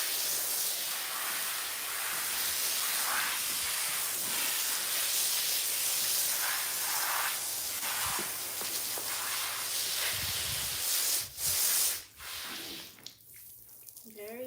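Water from a hose sprays steadily in a close, continuous hiss while a young colt is rinsed off at a barn, with short breaks and brief spurts near the end.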